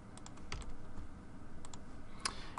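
Computer keyboard keys tapped a few times while working in 3D curve-modelling software, soft clicks scattered over a steady low room hum.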